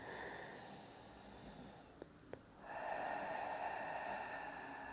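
Someone in a pilates class draws a breath in through the nose: a couple of faint clicks, then a sustained, airy inhalation from mid-clip that holds steady to the end, with no talking.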